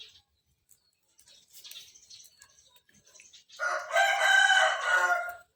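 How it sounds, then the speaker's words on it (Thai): Chickens in a farmyard: faint scattered clucks and soft sounds, then a rooster's loud, close crow rings out for a couple of seconds. "ไก่นั่นกระตอดกินมดนั่นแหละ"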